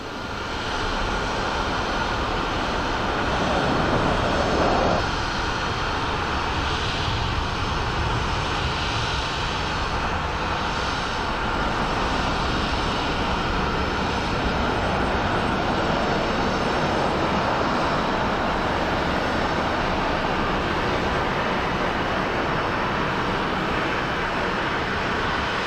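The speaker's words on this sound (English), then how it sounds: "this is a Boeing 737 MAX" Boeing 737 MAX jet airliner at Phoenix Sky Harbor airport, a loud steady engine roar that holds constant and close for the whole stretch, with a broad rushing hiss and no talk over it.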